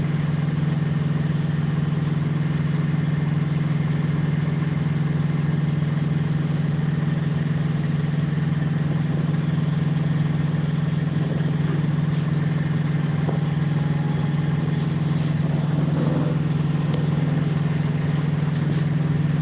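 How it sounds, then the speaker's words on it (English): A tow truck engine idles steadily nearby, a constant low droning hum that holds without change for nearly twenty seconds, with faint scattered knocks near the end. "Yeah, but your tow truck ain't towing this."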